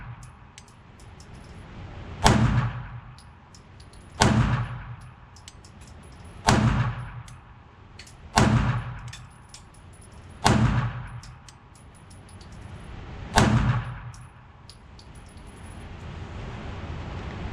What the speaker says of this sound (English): It's a very soft shooting gun.